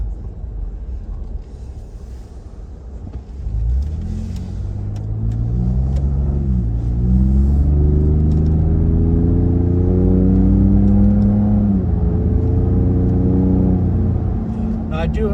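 A 2020 Ford Raptor pickup with turbocharged engine accelerates on a test drive, a steady rising engine drone that builds and holds loud from inside the cab, with people talking over it.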